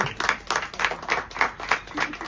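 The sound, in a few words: guests clapping at wedding ceremony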